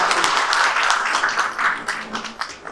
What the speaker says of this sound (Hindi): बैठ जाइए, जोरदार ताली आपने।